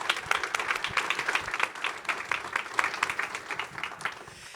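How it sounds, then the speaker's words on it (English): An audience at an Atlanta economic speaker-series event gives a round of applause, with loud and somewhat uneven clapping that comes in bursts, some individual claps standing out. "Round of applause, please"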